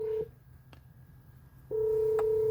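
An incoming phone call rings through the Bluetooth stereo of a 1972 Chevy El Camino, a steady electronic tone that breaks off, leaves a short quiet gap with faint rumble, then resumes loud and clear.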